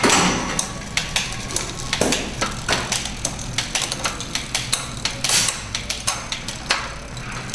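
A bicycle rear derailleur and chain are worked through a shifting test on a stand, giving repeated close clicks and ticks of the chain and cogs in an uneven rhythm with a faint mechanical rattle and no talking.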